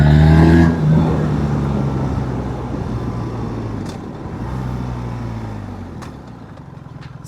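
A BMW R1300GS adventure motorcycle with a 1300cc engine drones steadily and loud, pulling with a low rumbling tone after a brief louder burst at the start, with a few faint clicks on top.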